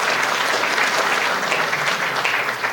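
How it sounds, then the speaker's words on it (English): An audience at a Medal of Honor ceremony claps steadily in dense, sustained applause from start to end, with no voices over it. "Give him a round of applause."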